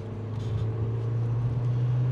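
The engine of an older Opel Astra drones steadily from inside the car during rev matching with a manual clutch, a constant low hum with a faint rise and no speech.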